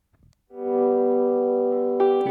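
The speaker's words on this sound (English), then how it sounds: "I also had Andreas record some lap steels on this" A sustained lap steel guitar tone swells in after a brief tap, holding a long gliding note with effects before another note is struck near the end.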